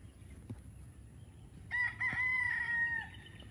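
A fighting cock crows once on a farm, a loud, close, drawn-out call lasting over a second, preceded by faint background noise and a brief knock.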